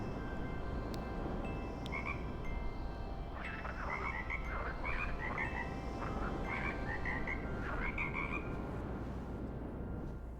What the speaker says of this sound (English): I totally forgot about my frogs